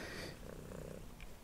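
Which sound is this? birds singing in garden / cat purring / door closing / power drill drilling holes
cat purring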